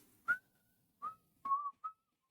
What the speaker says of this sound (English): a whole verse just cut to someone whistling the tune